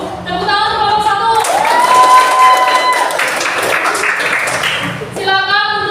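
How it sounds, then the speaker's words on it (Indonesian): Applause from a room full of people for a group after its presentation, with voices calling out and chattering over it, and a brief tonal whoop rising through the middle. "Tepuk tangan untuk kelompok"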